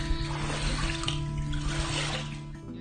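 Floodwater flowing into a house during widespread flooding, a continuous rushing, trickling wash of water heard up close with steady loudness.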